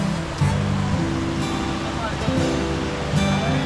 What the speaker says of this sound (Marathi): वरतून धबधबा खाली पडतोय ना